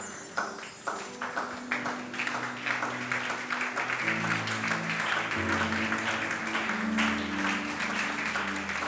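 Church congregation applauding, steady dense clapping that continues for several seconds, with sustained organ or keyboard tones and a few voices underneath.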